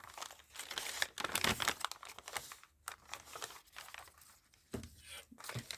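Packing paper crinkles and rustles in close, irregular bursts, with brief pauses and a few sharper crackles as it is handled and torn, quiet and without talk.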